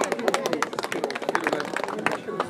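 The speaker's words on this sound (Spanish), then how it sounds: "Un aplauso, por favor." Mourners at a graveside farewell for a grandmother in San Juan de Juta break into brisk, close applause, a dense run of hand claps under faint talk.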